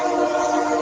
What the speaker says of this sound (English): Train's coming through too.